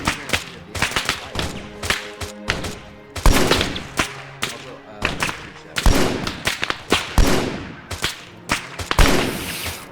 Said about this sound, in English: Yeah, they're shooting at us.